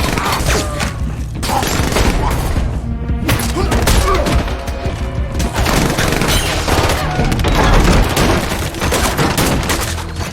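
Gunfire roars through an action film as Eve tries out weapons: loud, sustained fusillades of rapid shots and booming bursts with mechanical clacks, almost nonstop.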